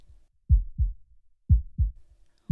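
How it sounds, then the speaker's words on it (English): Heartbeat recorded from inside the body: soft, muffled low thumps in paired lub-dub beats, two pairs evenly spaced with a third beginning, close and quiet with nothing else audible. "That is the sound of a heart beating."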